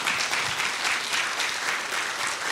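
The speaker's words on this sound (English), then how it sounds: "Another round of applause for our elected officials." Audience applause at a town hall meeting, dense continuous clapping from a crowd, loud and sustained throughout with no talk over it.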